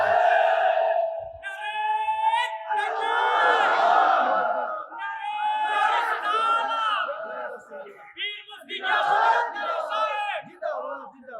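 A large religious gathering of Ahl Sunnat wal Jamaat supporters chants a slogan with raised hands, loud massed voices rising in repeated rhythmic surges led by a single voice between them.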